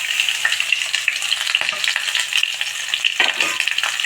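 Urad dal frying in hot oil for a colocasia (taro root) fry, a steady close sizzle with light stirring scrapes throughout, no voices.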